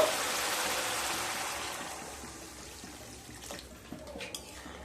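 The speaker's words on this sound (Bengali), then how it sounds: "এরপর পরিমাণ মতো জল দিয়ে দেব" Water poured into a pot of Parshe fish curry with potatoes, a broad rushing splash strongest at the start and tapering off, ending with a few faint clinks and bubbling.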